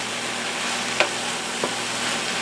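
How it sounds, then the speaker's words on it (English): Okra medley frying in olive oil in a pan gives a steady, close hiss of sizzling, with two brief clicks of stirring partway through and no voices. "you probably can hear that sizzle going on."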